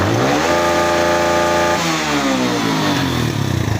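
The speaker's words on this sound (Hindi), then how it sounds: "लेकिन आप ये देख रहे हैं मिस फायर कर रही है।" A Suzuki GS 150 motorcycle engine with a misfire revs up close and loud, holding a steady high pitch before dropping back, its uneven firing giving a rough, sputtering edge throughout.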